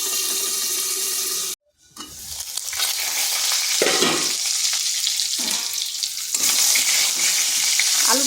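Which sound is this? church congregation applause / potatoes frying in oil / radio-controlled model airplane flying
potatoes frying in oil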